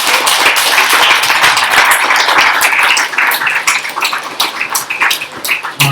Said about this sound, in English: a big round of applause for the candidates